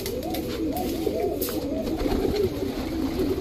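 Racing pigeons cooing in low, repeated throaty murmurs, several birds overlapping continuously at close range.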